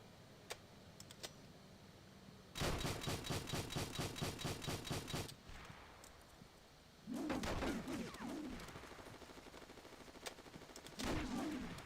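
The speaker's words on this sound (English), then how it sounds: "I'm gonna shoot this guy." Bursts of automatic gunfire from an anti-aircraft gun in an online shooting video game, one long rapid stretch followed by two shorter bursts with quieter gaps between.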